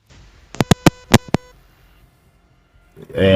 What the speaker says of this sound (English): I just heard some R2D2 beep kind of sounding thing.